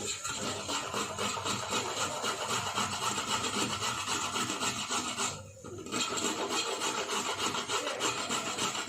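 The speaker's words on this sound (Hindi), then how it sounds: "गाजर है इसको ना अच्छे से घिसना है।" Fresh carrots rubbed against a grater for carrot halwa, a steady close rasping scrape that runs continuously, with one brief pause near the middle.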